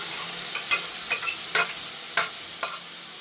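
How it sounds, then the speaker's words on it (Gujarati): Urad dal fries with red chili in a pan, giving a steady sizzle. About six sharp scraping strokes of a spoon stirring the pan are spread over a few seconds, close and clear, with no talking. "એને સારી રીતે હલાવીને પછી આપણી અડદની દાળ એમાં નાખી દેવાની છે"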